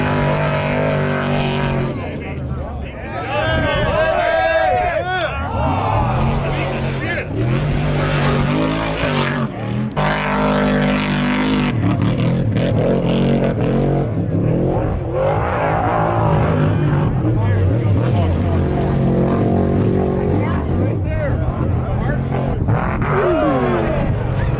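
Loud trophy trucks race through the King of the Hammers off-road course, engines roaring and revving continuously at close range with shifting pitch, while people talk over the din.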